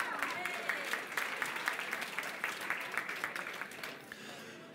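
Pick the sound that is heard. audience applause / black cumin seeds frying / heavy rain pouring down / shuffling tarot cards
audience applause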